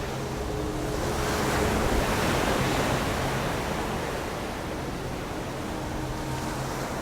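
Strong ocean waves roar continuously at a coastal pool in Pangasinan, Philippines, a dense rushing surf that swells and recedes, with wind blowing across the microphone.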